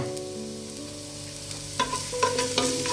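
Garlic sizzles in hot oil in a cooking pan, a soft steady frying hiss with a few sharper crackles and stirring clicks toward the end, no voices.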